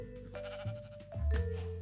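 A sheep bleats in the Minecraft video game, a clear wavering game bleat close and loud, with faint background game sounds around it.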